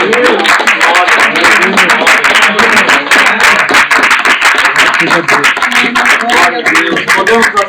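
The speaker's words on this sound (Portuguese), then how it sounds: "podem dar palmas" A church congregation claps hands rhythmically while loud voices speak and sing over it, giving a busy, close and lively sound.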